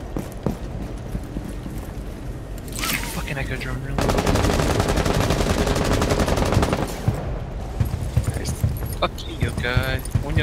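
Rapid automatic gunfire in Rainbow Six Siege on a yacht map, long continuous bursts with sharp shots, loud and close, with game sounds and voices around it.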